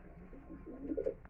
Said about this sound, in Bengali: এটা হচ্ছে নর পায়রা